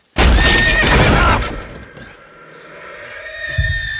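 A loud, shrill horse whinny from the video game Kingdom Come: Deliverance II rings out and trails off, followed by quieter lingering tones.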